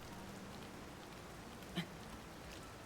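Steady rain falls in Zelda: Tears of the Kingdom as a faint, continuous hiss and patter throughout, with one brief soft click near the end.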